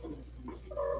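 Young kittens tussling at close range, a brief quiet scuffle with a rising, drawn-out yowl toward the end over a low steady hum.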